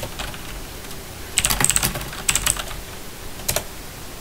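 Typing on a computer keyboard during a demo of a Golang TCP chat app, a few quick bursts of close key clicks over a faint background hiss.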